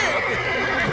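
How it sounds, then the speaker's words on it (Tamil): A horse whinnies loudly and close, one brief, strained, wavering call that fills the whole short moment. "குதிரை ரொம்ப வேகமா போயிட்டு இருக்கு."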